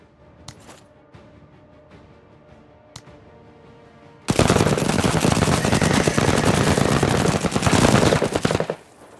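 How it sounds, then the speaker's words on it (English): Chain gun firing in a video game: after a few quiet clicks, a loud, continuous rapid-fire burst runs for about four and a half seconds, then cuts off. "we'll go a couple chain gun shots to That's Save- it, Marines. save the crowbar ammo"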